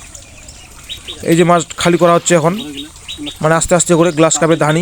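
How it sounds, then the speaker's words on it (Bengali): Morning birds chirp around a fish pond that is being emptied, with light tweets in the background beneath someone talking close by. "সকালের ওয়েদার, চারিদিকে শুধু খালি পাখির ডাক, কিচিমিচি আওয়াজ হচ্ছে।"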